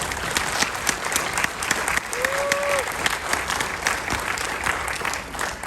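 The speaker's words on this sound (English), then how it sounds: "And round of applause for our district qualifiers" An audience at a high school athletic awards ceremony applauds district qualifiers, a steady roomful of clapping with a brief whistle rising through it midway.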